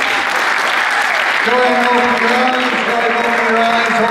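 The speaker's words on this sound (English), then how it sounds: "Give a big round of applause" An audience at a high school post-prom hypnosis show breaks into loud, steady applause. A voice speaks over the clapping from about halfway through.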